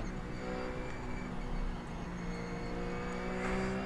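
The RUF C Spec racing car's engine drones steadily in iRacing, a continuous mid-pitched whine with a slight rise in revs toward the end. No gearshift is clearly marked.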